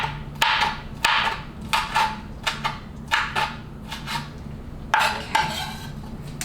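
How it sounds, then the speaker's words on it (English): A knife chopping washed Thai chilies on a cutting board, giving a series of sharp, close taps in uneven quick bursts with short pauses between them, heard alone without talk. "I'm gonna finely chop these Thai chilies that have already been washed."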